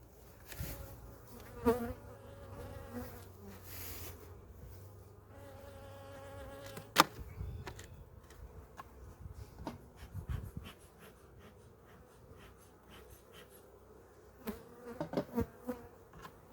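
A strong double-stacked four-frame nuc hive loaded with bees gives off a steady, close buzzing hum, with scattered louder bursts of individual bees passing near.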